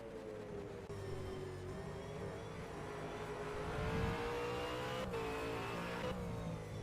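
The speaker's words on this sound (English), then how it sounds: "the speed and weight of the cars going past" V8 race cars at Sandown Raceway roar past in a continuous loud engine drone, with a steady high note shifting pitch as they accelerate and pass, some tire noise, and no talk.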